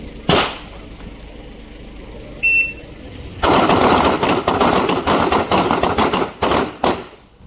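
Gunfire at a target shooting range during a two-day tournament: a single loud shot, then a dense, rapid string of sharp reports with brief pauses, close and dominant.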